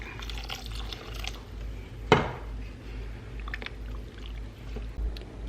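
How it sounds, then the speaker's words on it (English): Water splashes and trickles into a pot of thick chili with a brief clank of cookware, quiet and close, without talking. "I'm gonna add about a cup of water"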